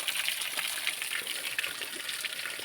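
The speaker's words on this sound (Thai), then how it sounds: "น้ำล้นถังนี่ครับพี่ซี นี่ครับ ก็ ถังที่พกผมเอาขึ้นมาวางไว้เนาะ" Water overflows a bucket set out on a mountainside, a steady, close, splashing rush of liquid spilling continuously with no speech.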